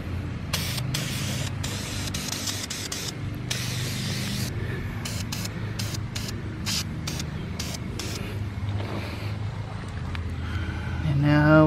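Repeated bursts of spray paint hiss as sunglasses are coated, short sprays separated by brief pauses, close and steady, with a louder hissing burst at the very end.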